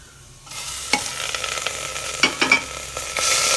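Small onions and tomato frying in a little oil for country chicken soup, a soft hiss that swells into steady sizzling, with a few sharp scraping stirs of the pan, close and clear, no voices.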